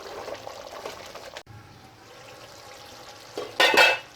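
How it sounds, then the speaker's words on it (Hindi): Chicken with yogurt frying and being stirred in a pan, a soft steady sizzle with occasional scrapes, ending in a louder burst of clattering stir noise; no talking. "अब इसको अच्छी तरीके से हम भूनेंगे"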